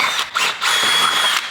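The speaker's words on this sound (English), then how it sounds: "Can we just drill the bumper there" A power drill drills into a car bumper in short whirring bursts, a brief pause, then a longer steady high-pitched grind close by.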